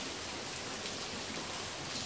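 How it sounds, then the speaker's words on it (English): Steady rain falls continuously outdoors on a winter day at a cliffside spot, a dense even hiss of drops with no pauses and no voices. "It is still raining and it's been raining since last night."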